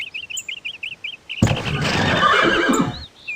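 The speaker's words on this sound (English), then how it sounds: "There are horses here, too." A horse in the Fritz & Chesster chess game neighs loudly and close, a long whinny after a run of rhythmic chirping bird calls, with the birds returning faintly at the end.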